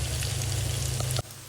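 Fish frying in oil in a pan gives a loud, steady sizzle that cuts off abruptly near the end.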